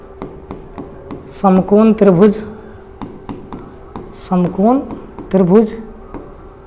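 Chalk or marker scratches and taps on a board during a maths lesson on right triangles, with short strokes scattered under a man's steady spoken explanation.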